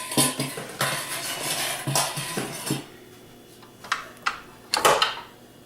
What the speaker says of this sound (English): I have my 5 cold eggs. Beat them lightly and just put them right into the bowl.